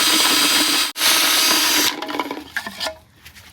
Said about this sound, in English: Ever show you this, the Can Shaker 9000? It's a lot easier than shaking the old rattle cans by hand.